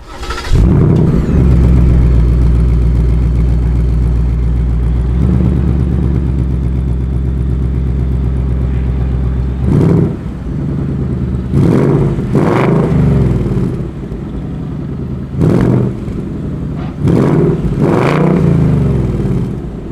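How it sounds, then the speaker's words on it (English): A 2020 Ford Mustang GT with the optional performance quad exhaust idles with a deep, loud rumble, then a series of sharp throttle blips rev up and fall back in quick succession, close by. "this model also has the optional performance exhaust, which sounds absolutely amazing"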